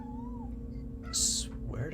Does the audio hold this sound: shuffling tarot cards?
no